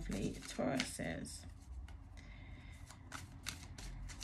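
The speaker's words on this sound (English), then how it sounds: "I'm just giving it another shuffle." Tarot cards are shuffled in quick riffling bursts, crisp and close, while a voice speaks softly at the start.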